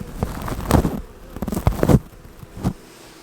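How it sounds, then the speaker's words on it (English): Honey bee buzzing near a beehive while a beekeeper works the brood boxes, a close, wavering drone that swells and fades in several passes over steady outdoor background noise. "Oh, looks like we got a bee."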